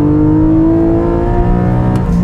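A mid-engine Porsche engine holds a high, sustained rev, a loud, steady tone that climbs slightly and hums on without pause from close inside the car.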